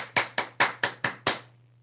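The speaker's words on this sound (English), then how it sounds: "Let's applaud our attendees." Six crisp, evenly spaced hand claps at an event applauding attendees, close and distinct, with a short fading tail after the last one.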